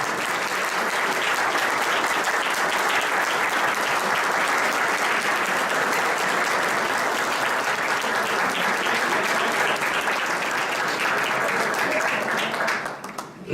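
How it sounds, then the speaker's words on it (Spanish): Sustained audience applause for Reinaldo Montilla's family at a book presentation, dense and loud clapping from a large crowd that holds steady for over twelve seconds before tapering off. "le demos un aplauso"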